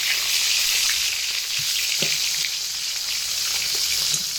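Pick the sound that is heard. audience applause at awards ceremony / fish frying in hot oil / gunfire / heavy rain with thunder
fish frying in hot oil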